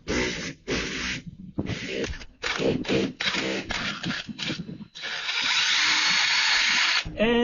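A power drill bores holes into a boat's gel coat hull for a security camera mount, running in several short close bursts with brief pauses, then one longer sustained whine near the end.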